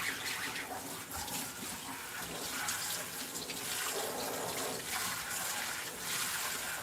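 Glazed ceramic pottery is washed under running tap water, a continuous close hiss and splash of the faucet stream with slight shifts as the piece is moved, no speech.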